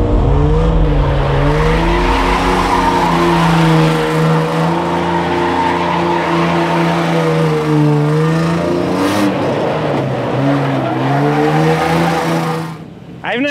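Car drifting at close range, engine revving hard with rising and falling tones while the tires squeal continuously through long slides, ending abruptly.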